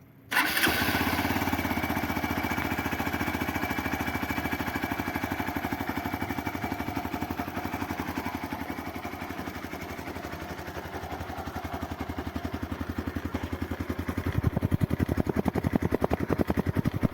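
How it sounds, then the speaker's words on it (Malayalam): A Hero Xpulse 200 4V motorcycle with about 16,000 km on it is started: a brief crank catches at once and the single-cylinder engine settles into a steady, close idle that runs on with a slight rise near the end. "അപ്പോൾ വണ്ടി ഇനി ഒന്ന് സ്റ്റാർട്ട് ചെയ്തും കൂടെ ഒന്ന് നോക്കാം."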